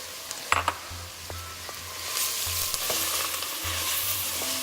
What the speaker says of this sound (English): then we go ahead and pop in the celery and also the bacon. And we give that a really nice stir